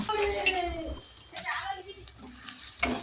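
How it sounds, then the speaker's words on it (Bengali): Onion pieces stirred and fried in mustard oil in a wok for ghugni, with a spoon scraping and clattering against the metal over a steady sizzle, and a few brief utensil knocks. "এবার তেলের মধ্যে কেটে রাখা পেঁয়াজের টুকরো দিয়ে ভালো করে নেড়েচেড়ে ভেজে নেব"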